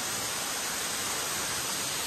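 Water rushes steadily at a Thai waterfall, a dense, even roar with no breaks, close and constant throughout, with no voices over it.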